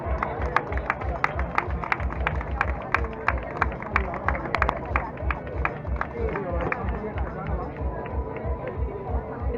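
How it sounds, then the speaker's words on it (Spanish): Spectators applaud at the podium ceremony of a women's 10K race in Valencia, a steady stream of sharp handclaps over crowd murmur and talk, continuing for several seconds at moderate distance. "un aplauso para ella"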